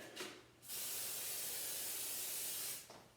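A steady hissing spray of lubricant from an aerosol can onto garage door springs, about two seconds long, close and loud, after a couple of short puffs.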